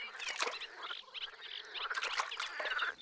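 Frogs croak in a Serbian wetland during the mating season, a dense chorus of rapid, rattling calls in repeated bursts, fairly close and alone with no talk.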